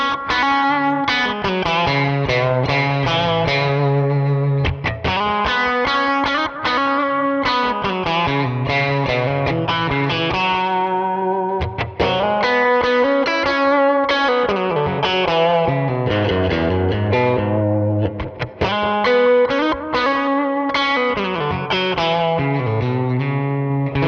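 An electric guitar plays a continuous distorted lead line through a Line 6 Helix with EQ shaping its tone, loud and sustained for the whole stretch, with no talking.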